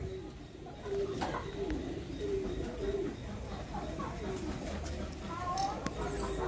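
Sialkoti pigeons coo in soft repeated phrases against steady background noise, with a voice talking faintly at times.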